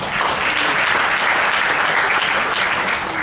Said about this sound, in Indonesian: Tepuk tangan buat dari